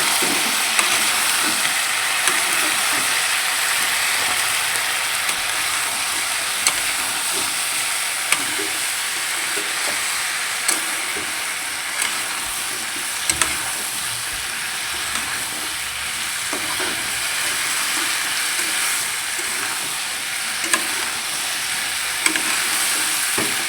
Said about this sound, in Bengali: আগে থেকে বেটে রাখা মশলা দিয়ে দিচ্ছি 1 চামচ। এটাকে ভালোভাবে কষিয়ে নেব।